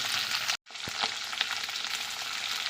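Beans, potato and three green chilies sizzle and fry steadily in a pan, a dense continuous hiss with a brief drop to silence and a few soft stirring knocks, no talking.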